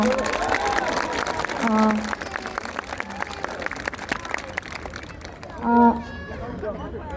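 Audience applause at an outdoor political campaign rally at Pyeongtaek Station, South Korea, builds and rolls on for several seconds while a voice keeps speaking over the clapping.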